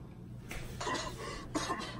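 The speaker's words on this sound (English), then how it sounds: "So I'm getting over this fucking cough, man." A man with a lingering cough coughs a few times, two short rough bursts close to the microphone over quiet room background.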